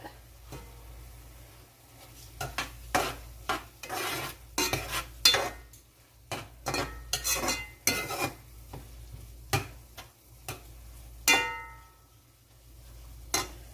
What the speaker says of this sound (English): I stir that up